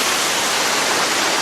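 Galliebarinda Falls in the Otways, a waterfall rushing in a steady, loud, broadband roar that fills the short moment without any voices.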